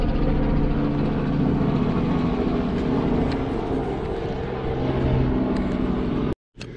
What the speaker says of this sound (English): Helicopter going out above.